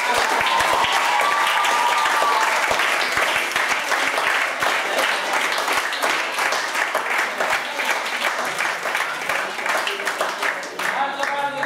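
An award ceremony audience at a Polish team contest applauding, a loud sustained burst of clapping that thins toward the end as a voice cuts in.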